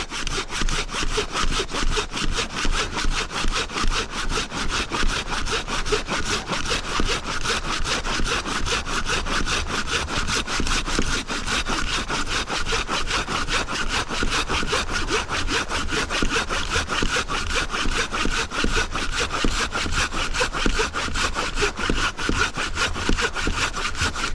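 A Silky Gomboy 300mm hand saw rasps through an 8-inch wooden log in a fast, steady back-and-forth rhythm, loud and close, continuing without pause.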